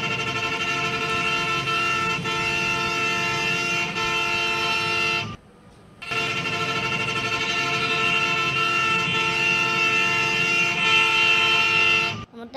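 A bus horn in the Bus Simulator Bangladesh game with a Liton Travels bus skin blares loud and sustained, a steady multi-tone blast held for about five seconds, then a short break and a second long blast.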